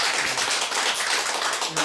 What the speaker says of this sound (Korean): 한 번 더 박수 한번 예